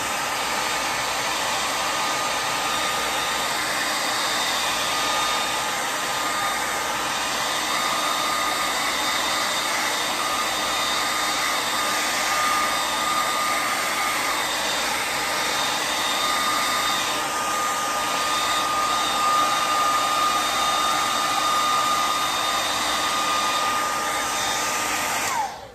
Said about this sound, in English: Dry it with the hair dryer.